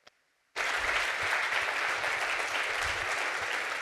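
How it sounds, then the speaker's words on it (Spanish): Audience applause bursts in suddenly after a brief silence at the launch of a short-story contest, a dense, even wall of clapping from many hands that continues steadily without voices. "un aplauso a todas y todos"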